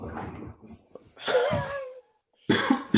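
Several sharp post-COVID coughs from a nearby person, a short burst, a pause, then another harsh cough, with breathy throat noise between them.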